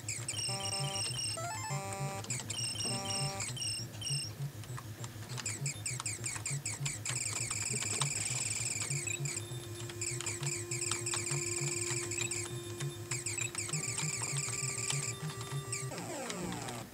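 Tense mid-boss music from the NES shooter TwinBee, busy chiptune with pulsing bass, rapid arpeggiated high notes and a long sustained tone near the end, playing loud and continuous with no talking.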